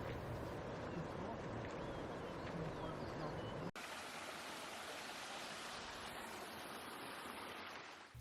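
A small waterfall pouring over rocks in Glacier National Park, a steady broadband rushing wash of water heard close and fairly loud, unbroken throughout with one brief dropout partway through.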